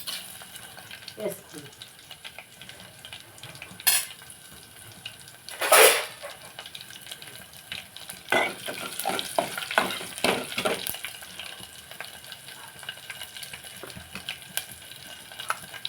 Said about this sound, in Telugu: నూనె కాగింది కదండి వెల్లుల్లిపాయ మిరపకాయ ఆవాలు జీలకర్ర